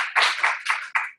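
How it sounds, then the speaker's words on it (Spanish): Four distinct claps ring out in an even rhythm, fairly close and crisp, with no voices over them, at a gathering where the audience is asked to give someone a round of applause. "Le damos un aplauso."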